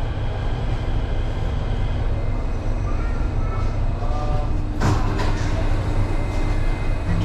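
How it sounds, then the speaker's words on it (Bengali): An underground metro train in Singapore runs through a tunnel, giving a steady, loud rumble and roar with a brief sharper screech partway through and faint voices underneath. "মাটির ভিতরে মেট্রোর লাইন"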